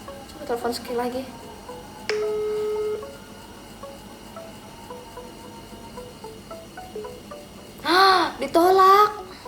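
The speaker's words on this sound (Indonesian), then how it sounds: "Coba telepon sekali lagi." An outgoing phone call gives a single steady ringing tone in a quiet room, with faint voices speaking near the end.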